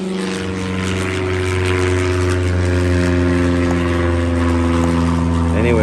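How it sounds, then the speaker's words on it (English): A propeller airplane drones overhead, loud and steady with a low harmonic hum that swells slightly throughout, heard at a backyard bird aviary build site with no talking. "Sorry about the plane."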